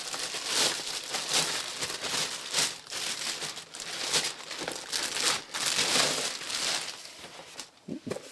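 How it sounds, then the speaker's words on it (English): Plastic packaging around a Parkside power tool is unwrapped close up, giving continuous loud crinkling and rustling in bursts, with a brief tearing texture near the end. "Let's unwrap her and have a look."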